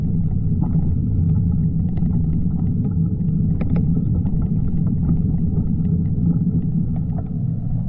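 Steady low rumble of road traffic passing a touring cyclist, loud and continuous, with faint higher rattles on top and no voices.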